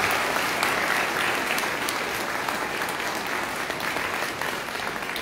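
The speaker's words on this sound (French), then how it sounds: "Alors, on peut encore applaudir nos enfants." A Catholic Sunday Mass congregation applauds the children on a family Sunday, a loud, sustained roar of many hands clapping together that stays even and full for several seconds.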